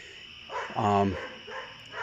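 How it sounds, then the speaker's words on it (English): Livestock guardian dogs barking at fighting cats somewhere outdoors, a single bark and short yelping calls in the background beneath a voice speaking. "livestock guardian dogs in the background barking at some cats that are having a cat fight somewhere"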